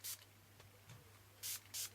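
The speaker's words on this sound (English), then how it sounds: "Do a few sprays." Aerosol spray paint in black and pink hisses onto a recycled tailor's mannequin in three short, sharp bursts: one at the start and two close together near the end, with quiet room tone between them.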